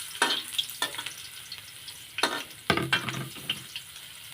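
Ginger dropped into hot oil in a pan, a few bursts of sizzling and spatula scrapes close by, with quieter gaps between them.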